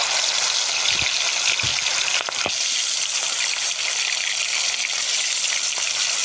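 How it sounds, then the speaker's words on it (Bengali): Rohu fish pieces frying in hot oil in a wok, a dense steady sizzle with a few brief clatters early on. "তেল গরম হয়ে গেলে মাছগুলোকে একটা একটা করে ভেজে নেব"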